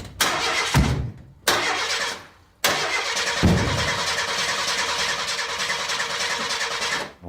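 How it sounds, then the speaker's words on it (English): A worn-out junk car's engine cranks hard but never catches: loud grinding bursts start and stop twice, then one long sustained churning attempt that cuts out, with no talking. "When that car didn't start, I knew instantly we had a blow."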